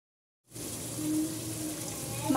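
Water from parboiled rice for biryani-style tehari pours steadily into a sink or strainer, a continuous close gush that starts abruptly after a brief silence and keeps flowing to the end.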